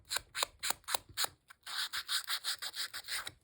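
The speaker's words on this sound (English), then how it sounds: "I'm just taking my little sanding disc and going around the side" A small sanding disc scrapes around the edge of a paper card, first in a few separate rhythmic strokes, then a quicker run of short, close, rasping passes.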